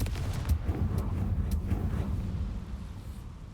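A Confringo blasting spell erupts in Hogwarts Legacy, a low, rumbling explosion with a few crackling pops that fades steadily into a quieter tail.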